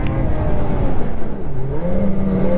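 Small Ski-Doo snowmobile engine, a 2027 XRS 600RR, running close and loud in snow, a continuous droning rev that rises and falls slightly in pitch.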